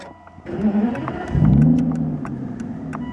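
A 2010 Aston Martin DBS Volante Carbon Edition fires up from a push-button start, its engine catching with a loud roaring flare that swells and then settles into a steady, throaty idle close by.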